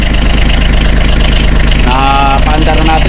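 A diesel engine on a wooden outrigger boat idles steadily just after being started, a loud continuous low throb with a rhythmic chug throughout, while a voice speaks briefly over it near the end.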